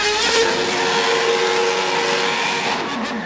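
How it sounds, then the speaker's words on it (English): A Red Bull Racing Formula 1 car driven by Sergio Perez on Dallas city-centre streets, a loud sustained high-pitched engine whine with steady tonal bands, holding close for about three seconds before easing slightly at the end. "Red Bull Racing's Sergio Perez took an F1 car to the streets of Dallas."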